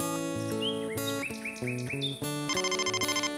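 A cartoon telephone rings in a bright, musical electronic melody with sliding chirpy notes, ending in a rapid trill of repeated beeps; loud and close, with no voices.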